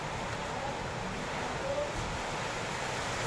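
Strong wind lingers after a typhoon has passed, a steady, broad rushing roar close to the microphone that stays even and unbroken throughout.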